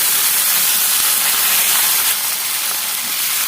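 Dried red chillies and chopped green chillies sizzle as they drop into hot oil for a fenugreek-leaf chutney, a steady loud frying hiss with no talk.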